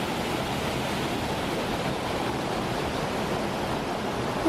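Sambuyeon waterfall in Cheorwon pours in a dense, steady rush of falling water, a continuous broadband roar with no other sounds.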